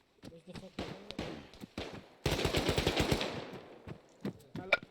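Light machine gun fire in a military shooter game, bursts of rapid automatic shots with a sustained stretch in the middle, mixed with other nearby gunfire and voices talking.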